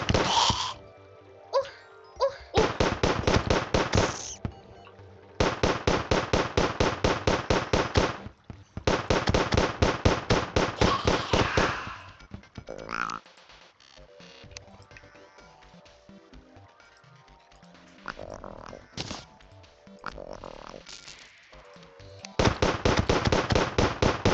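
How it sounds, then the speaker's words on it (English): Rapid pistol fire in the sandbox game Terraria, long strings of crisp, evenly spaced shots in several bursts separated by short pauses and softer game effects. "That pistol's sure getting a workout."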